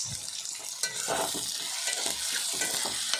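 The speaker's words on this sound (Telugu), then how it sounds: "చక్కగా వేగుతున్నాయి" Flat beans frying in a pan while being stirred, with a steady close sizzle and scraping stir strokes throughout, no talking.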